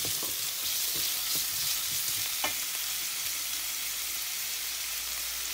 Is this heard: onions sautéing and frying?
yes